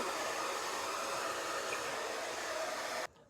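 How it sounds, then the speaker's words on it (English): A hair dryer blows steadily while afro hair is blow-dried and stretched, a loud continuous whoosh that cuts off abruptly near the end. "I do stretch the hair as I blow dry it."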